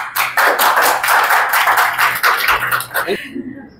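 An open mic audience breaks into loud, close applause for a speaker, with dense rapid clapping under a few voices that stops abruptly near the end.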